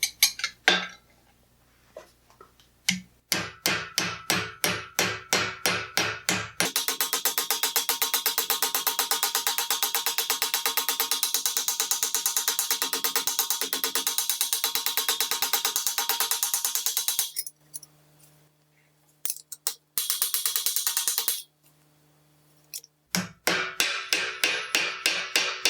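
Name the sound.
planishing hammer striking 18 gauge armour steel edge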